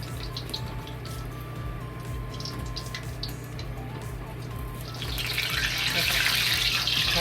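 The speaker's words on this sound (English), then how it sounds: "Drain this oil." Frying oil drains from fried eggplant into a pan or container, a soft steady liquid rush over a low hum that grows louder and more hissing toward the end.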